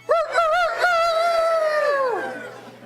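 A concert audience at a bluegrass show crows together in imitation of a rooster, a loud rising cock-a-doodle-doo from many voices that stretches out and fades over about two seconds.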